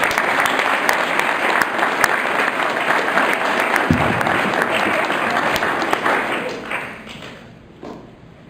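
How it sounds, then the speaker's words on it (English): Applause from the audience at a Boy Scout troop Court of Honor, honoring Joe and his ASPLs: a sustained, even round of clapping from a large crowd with a single thud partway through, tapering off near the end. "So let's give Joe and his ASPLs another round of applause."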